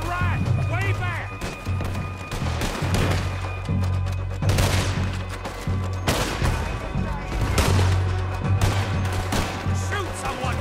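Heavy gunfire in Red Dead Redemption 2, with dense overlapping shots and booming blasts continuing throughout, loud and close, while voices shout over the shooting.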